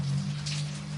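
Rain falls steadily as a soft, even hiss, with a constant low hum running beneath it, and no voices or other sounds.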